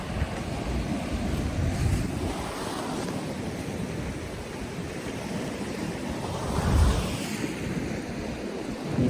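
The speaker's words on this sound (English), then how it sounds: "Look at this sea behind me." Sea waves rolling onto the coast of Cyprus with gusting wind buffeting the microphone, a continuous loud roar that swells and recedes, with no voices.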